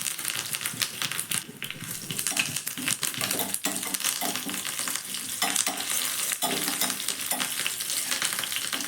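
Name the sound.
ginger and curry leaves frying in a pan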